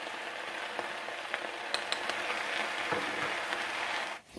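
Spinach and grated garlic with a little thyme fry in a hot pan. The sizzle is soft and steady, with faint scattered crackles and pops before it suddenly cuts down at the end.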